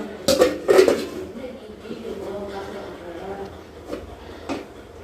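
A metal lid clanks onto a pot of heating water twice near the start, followed by a quieter kitchen room tone with a couple of small knocks.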